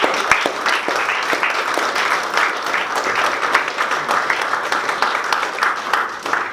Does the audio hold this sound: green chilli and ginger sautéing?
no